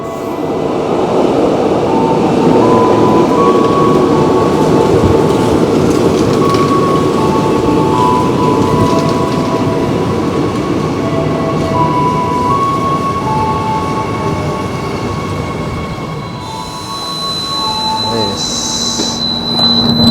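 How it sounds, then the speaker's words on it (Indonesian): An airport commuter train passes through the station at close range, rumbling loudly with wheels clattering and squealing with metallic tones, steady for most of the time before a shrill squeal near the end. "Di stasiun Tanah Abang, KRL bandara melintas langsung"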